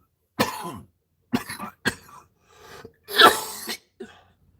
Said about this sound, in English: That's why I'm coughing so much.